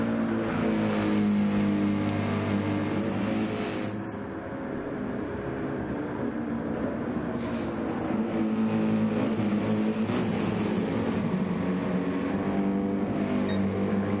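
A Mercedes race car engine holds a steady, loud drone at speed through a NASCAR-style turn, with a brief dip in intensity partway before the roar builds again.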